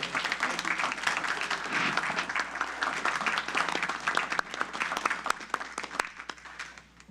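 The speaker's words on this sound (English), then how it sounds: "So round of applause again for the presentation." Applause at a city council regular meeting, a room of people clapping in a busy, sustained burst that tapers off near the end.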